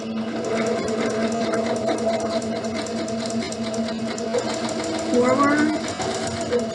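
A sewing machine stitches back and forth over elastic for a fabric scrunchie, its steady mechanical whir running close and continuous with slight shifts in pitch as direction changes, while a person talks over it.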